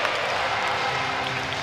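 Home crowd at a Belfast Giants ice hockey game roars steadily in a packed arena after a fight, a continuous broad wash of cheering and applause with no break.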